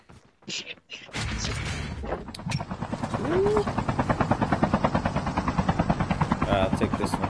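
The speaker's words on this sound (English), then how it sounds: "I didn't know we had two choppers." A helicopter flies in Call of Duty Mobile's battle royale mode, its rotor throbbing as a fast, even chop that builds and holds loud and near after a few brief game sounds at the start.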